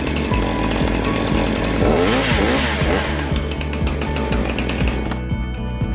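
A Husqvarna chainsaw's small two-stroke engine idles with a steady, rough, pulsing rattle, loud and close, then drops off near the end.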